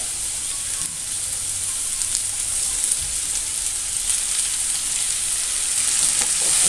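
Spring onion greens fry in a pan with a constant, loud, hissing sizzle that holds evenly throughout, with a few faint stirring knocks.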